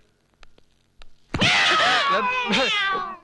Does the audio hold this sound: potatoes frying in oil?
no